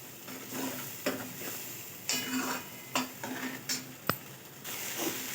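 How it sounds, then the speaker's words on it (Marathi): Masala with turmeric fries in oil in a pan, a soft steady sizzle broken by the scrape and clink of a spoon stirring against the metal, close up and fairly quiet, with no voices. "आता मस्त छानसा असा तेल सुटेस तोपर्यंत आपण मसाला इथे छान फ्राय करून घेणार आहोत."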